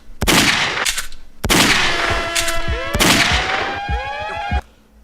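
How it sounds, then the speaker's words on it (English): Gunshot sound effect played during commentary about hip hop culture: a few sharp, loud bursts in quick succession, each with a ringing, clanging tail, standing alone without talk. "Let me put my gunshot for those of you that can't hear it"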